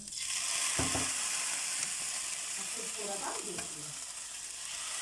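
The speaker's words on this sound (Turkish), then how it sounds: "Çorbamızı şöyle yağını da dökelim." Hot butter poured over a bowl of homemade village soup, a steady sizzle with a brief louder splash near the start, continuing close and crackly throughout.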